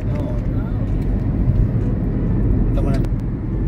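Heavy road traffic in Saudi Arabia makes a loud, steady roar of engines and tyres close by, with occasional sharper vehicle sounds and people talking over it.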